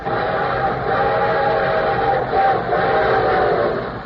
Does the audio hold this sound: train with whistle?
yes